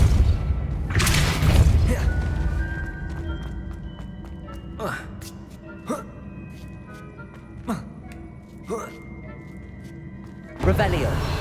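The Depulso spell is cast in the video game Hogwarts Legacy. A heavy booming blast is followed by a quieter stretch of scattered thuds and knocks, then another sharp burst near the end.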